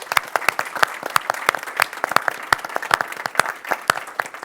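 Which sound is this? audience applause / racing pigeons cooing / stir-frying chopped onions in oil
audience applause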